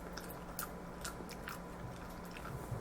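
Crunchy, slightly cold lemon-flavored fries are bitten and chewed close to the mic, with several crisp crunches spaced about half a second apart over a quiet background.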